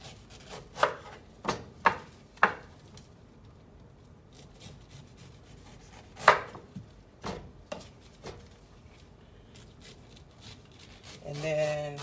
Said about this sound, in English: this is the part where you slice your pineapple however you want